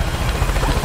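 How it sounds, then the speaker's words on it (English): Video game helicopter with a loud, close, continuous rotor thrum and whine, heard alone in a short burst. "I think that's my helicopter"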